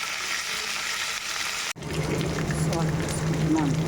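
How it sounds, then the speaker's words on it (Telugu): Red chillies, ginger pieces and half the onions fry in a pan for idli chutney, a steady close sizzle with crackling that jumps louder as fresh ingredients drop in midway, then keeps bubbling on. "రెడ్ చిల్లీ, అల్లం ముక్కలు మంచిగా వేయించుకొని హాఫ్ ఆనియన్స్ కూడా వేసాను"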